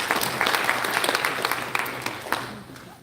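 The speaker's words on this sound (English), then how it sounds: "You really deserve a round of applause." Audience applause at a Uganda National Examinations Board event, a steady wash of many hands clapping at moderate volume that tapers off toward the end.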